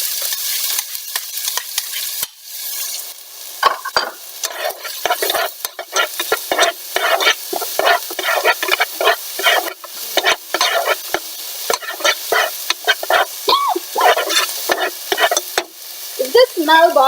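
Chopped onions and cumin seeds fry in oil in a pan for a moong sabzi, a steady crackling sizzle broken by frequent scraping stirs, close and continuous with no talk.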